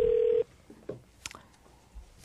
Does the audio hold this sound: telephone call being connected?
yes